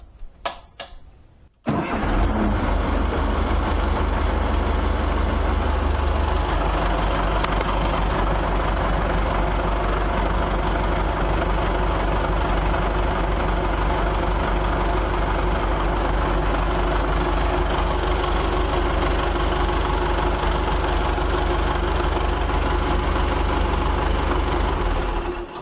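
A John Deere 2440 tractor engine cranks briefly, then catches and runs at a steady, loud idle for over twenty seconds, a continuous low diesel rumble with no voices.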